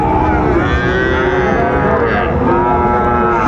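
Sahiwal bulls and calves low and moo steadily at a busy cattle market in Raniganj, Dinajpur, amid constant crowd noise with some faint talk.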